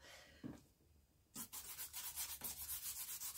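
Eraser rubbing out a pencil drawing on paper during a portrait sketch, heard as a rapid series of close, scratchy back-and-forth strokes after a brief pause, steady and rhythmic.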